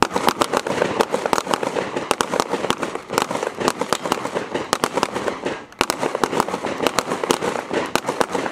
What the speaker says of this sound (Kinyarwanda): Barakoresha imbunda yo mu bwoko bwa pistol